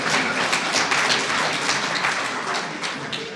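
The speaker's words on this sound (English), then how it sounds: "At least 1 round of applause for him." Audience clapping fills a university lecture hall in a steady, dense round of applause that holds at an even level throughout and stays close and full, with no voices over it.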